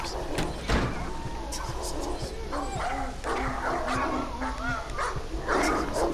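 In a horror video game set in a hospital, a dog barks and whimpers amid dense game sounds, with a person talking over it throughout.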